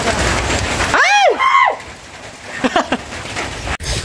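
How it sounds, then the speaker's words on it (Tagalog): Heavy typhoon rain pours outdoors in a steady loud hiss, with a brief voice and short chirping sounds breaking through near the start. "Sobrang lakas ng ulan."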